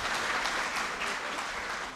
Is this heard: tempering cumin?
no